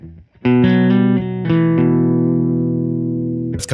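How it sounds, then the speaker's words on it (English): Clean electric guitar through a Supro amp with the drive pedal off, a few plucked notes then a sustained chord ringing out loud and close, with a brief noisy burst at the very end; no talking. "Again, this is a clean amp sound."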